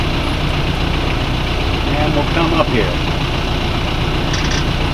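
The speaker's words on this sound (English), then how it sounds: "Slow down to idle, so the boat is going as slow as possible," The engine of an Allied 36 ketch sailboat idles with a steady low drone close by, while someone speaks briefly over it.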